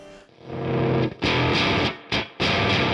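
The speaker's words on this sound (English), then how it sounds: "This is not your grandfather's fuzz pedal." Electric guitar driven through a modern fuzz pedal, thick saturated chords ringing loud and sustained, cut by two brief pauses before crashing back in.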